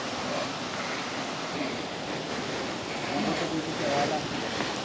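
Water at Hidden Falls along Marilaque gives a steady, broadband rush, close and constant throughout, with faint voices in the background.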